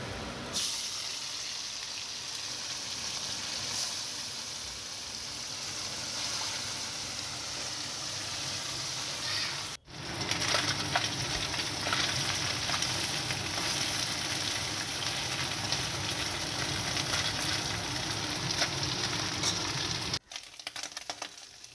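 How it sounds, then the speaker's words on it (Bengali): Small puti fish frying in an oil-filled pan give a steady, close hiss and crackle that runs on continuously, briefly cut twice, with no talking. "পুঁটি মাছটা কিছু ভাজতে দিয়েছি"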